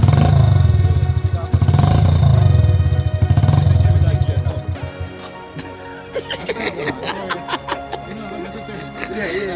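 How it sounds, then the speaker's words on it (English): A quad bike engine revs with a strong low throaty drone that swells twice, then drops into a choppier, rattling idle with clattering bursts, close by and loud. "You have to rev it."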